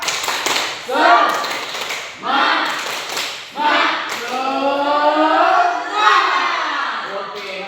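Schoolchildren in a junior high classroom perform a rhythmic clap chant, sharp claps in groups alternating with loud, shouted voices in unison.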